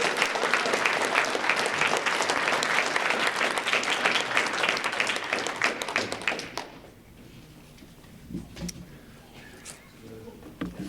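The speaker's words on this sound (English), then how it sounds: "one more round of applause for all 15 of our school-wide winners" An audience applauds school essay contest winners at an MLK elementary essay event, a dense, steady roomful of clapping that lasts several seconds before thinning to scattered claps and quieter room sounds.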